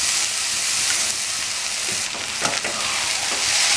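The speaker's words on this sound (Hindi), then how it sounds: "इसको अच्छी तरह फ्राई करना है तेज आंच पे" Vegetable chow mein noodles stir-fried on high heat, a loud, steady sizzle and hiss with a few scraping stirs partway through, close up and with no talking.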